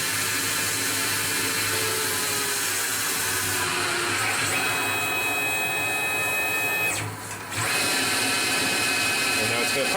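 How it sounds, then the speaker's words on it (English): A Tormach lathe makes a finishing pass along a titanium screw profile, a steady machine whir with tonal whine running throughout, briefly dipping near the end under a continuous hum. "Now it's going to finish that profile once again, just to clean up any burrs."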